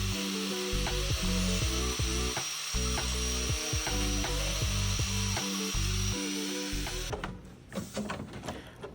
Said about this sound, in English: I was using what I have available to me, and that is this grinder that I got from Harbor Freight for 15 bucks, and I'm trying to feather this corner